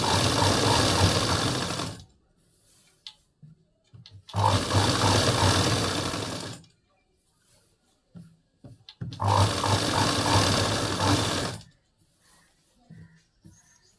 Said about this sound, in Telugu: ఇదిగోండి, క్లాత్ని అడ్జస్ట్ చేసుకుంటూ స్టిచ్ చేస్తున్నాను.